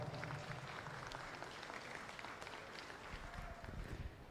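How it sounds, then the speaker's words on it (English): An audience at the 2025 Southeast Regional Hereford cattle show gives a sustained round of applause for young exhibitors, soft and distant, with steady clapping throughout. "please help me congratulate these kids with a big round of applause"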